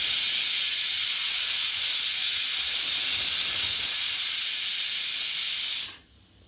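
A pressure cooker vents steam in a steady, loud, unbroken hiss with a high whistling edge, holding level for about six seconds before cutting off abruptly into quiet.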